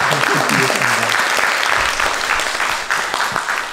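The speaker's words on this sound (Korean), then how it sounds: "저 큰 박수 한번 부탁드리겠습니다" Audience applauding after a lecture by a professor, a dense, steady wash of many hands clapping at once, loud and sustained before easing slightly, with voices mixed in.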